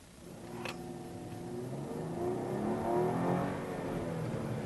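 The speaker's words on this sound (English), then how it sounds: "it actually has a pretty throaty sound to it for a V6, and it's quick at that" A 2013 Hyundai Genesis Coupe with a naturally aspirated 3.8-liter V6 accelerating from a stop on a track. Its engine note rises steadily into a throaty, building rev, heard from inside at moderate volume.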